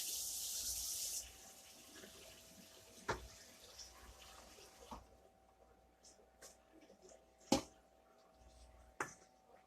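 Water runs in a brief steady stream into a kettle at the start, then stops, followed by quiet room sounds and a few sharp knocks and clinks.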